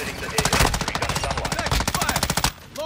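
Rapid automatic fire from an M13 assault rifle in Call of Duty: Modern Warfare, a steady stream of close, punchy shots for over two seconds before cutting off, with faint game sounds after.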